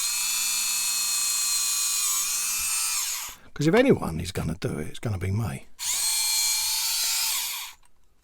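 A small power drill whines steadily as it bores into a scale model kit part, running for about three seconds, pausing while someone speaks, then starting again for a second long run.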